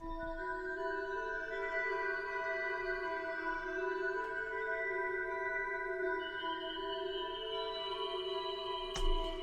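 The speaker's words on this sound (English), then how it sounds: "Next we got this pad from Analog Lab" Native Fantasy synth pad from Analog Lab sustains a steady, hollow chord with a gently shifting upper layer, played alone at low level, with a small thump near the end.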